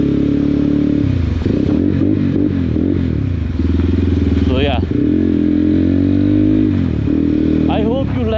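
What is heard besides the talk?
Crossfire CF 250 Twin motorcycle riding with loud exhaust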